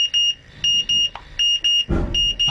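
A portable gas monitor sounds its A2 alarm in repeated shrill beeps, loud and close in a steady on-off pattern. A short rustling burst breaks in near the end.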